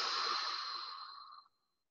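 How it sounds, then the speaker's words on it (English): A single long, deep inhalation taken while folded forward in a chair, a steady airy rush lasting about a second and a half before fading out, close and clear with no talking. "So I'm going to take in a nice deep breath here."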